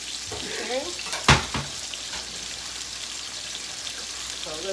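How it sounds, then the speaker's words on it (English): Red potatoes, smoked sausage and bacon saute in olive oil in a pan, a steady broadband sizzle running throughout with a sharp utensil clank near the start and brief voice-like tones in the background. "We got that sauteing"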